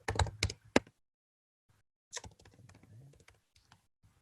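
Firewall rules being typed on a computer keyboard, two short bursts of quick close key taps separated by a quiet pause, with soft speech in the background.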